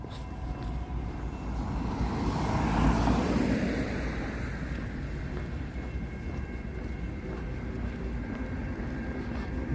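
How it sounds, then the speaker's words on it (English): A train rolls by at a moderate distance in winter in Vancouver, a steady rumbling roar that swells briefly, then settles into a continuous low drone. "Looks like there's a train ahead of me there."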